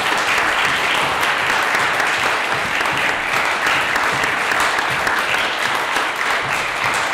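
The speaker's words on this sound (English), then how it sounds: "Can we have a big round of applause for Liz," Sustained, dense applause from an audience after a poetry reading at a writers' festival, steady and loud throughout with no break or voice over it.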